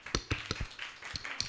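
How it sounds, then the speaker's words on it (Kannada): A few scattered hand claps in a sparse, uneven rhythm, close and fairly faint, as brief applause at a Kannada Rajyotsava quiz event. "ಚಪ್ಪಾಳೆ"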